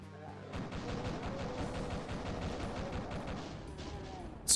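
Rapid gunfire rattles continuously in Doom 2, on a Crusader map called Tyrant's Realm, as a steady burst of repeated shots at moderate volume for several seconds.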